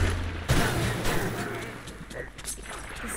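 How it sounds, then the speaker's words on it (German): A sudden booming blast in Minecraft Dungeons followed by crackling gunfire-like bursts and rumble, with a voice talking over the noise. "Explosion!"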